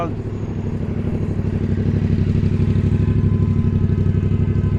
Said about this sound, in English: got this motorcycle here.